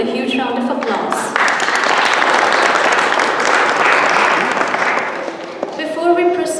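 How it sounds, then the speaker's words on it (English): Audience applause at a Diwali celebration in the Rhode Island State House, a broad steady round of clapping from a crowd that swells and holds for several seconds before fading, with a voice briefly heard at the edges. "Please welcome them with a huge round of applause."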